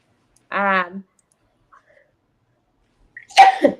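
A short voiced sound, then near silence, then one sharp, close sneeze bursting out at the end.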